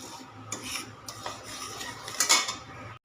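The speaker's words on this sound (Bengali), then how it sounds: "এবার লবণটা হালকা গরম করে নিচ্ছি" Salt being lightly heated in a dry pan for mango pickle, giving close, gritty scraping stirs of a utensil across the metal in short repeated strokes, with a louder scrape near the end.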